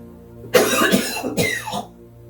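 Two rough coughing bursts, close and fairly loud, with a spluttering, throaty quality and a short pause between them.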